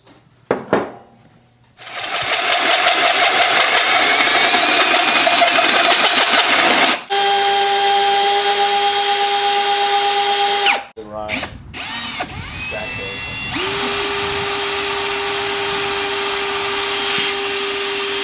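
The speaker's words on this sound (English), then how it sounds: "So I'm going to get to cutting these holes in these end tanks." A power drill whines loudly and steadily as a hole saw bites into a metal intercooler end tank, then stops, restarts at a different pitch, with rattling and grinding between runs.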